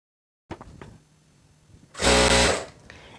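A sewing machine runs a short, loud burst of stitching along the side seam of a georgette kameez, preceded by soft handling noises of the fabric.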